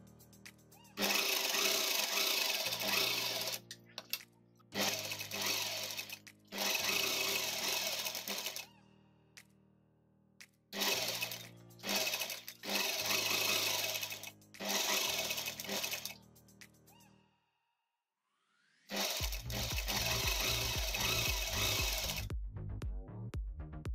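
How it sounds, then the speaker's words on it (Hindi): A sewing machine stitching around the lining of a fabric face mask, running in loud, steady whirring bursts of a few seconds each, broken by short pauses, with a brief silence before a final run and no talking. "अब हम अस्तर को फिक्स करने के लिए इसके चारों तरफ एक सिलाई लगा देंगे पूरे में।"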